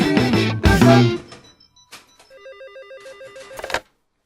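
A telephone rings with an electronic warbling tone in a French comedy-adventure scene, following music and a brief sound, then cut off abruptly.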